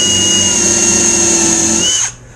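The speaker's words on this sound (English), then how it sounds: "we're going to take our taper bit and we're going to drill until it's undersize of that a little bit." A taper step bit drills through hardware for a cigar box guitar build, a loud steady high-pitched whine with a faint squeal that cuts off sharply near the end.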